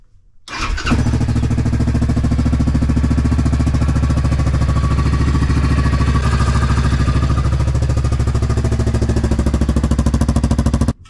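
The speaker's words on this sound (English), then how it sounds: "So I'm going to fire up the Grizzly." A 2021 Yamaha Grizzly 700 ATV engine fires up after a short crank and settles into a steady, loud, close idle that runs unbroken for about ten seconds.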